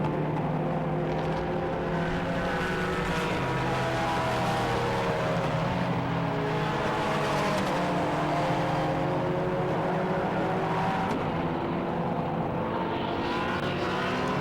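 BMW 1M race cars run at Silverstone during an endurance race, a dense, sustained roar of engines with shifting pitch, loud and continuous without a break.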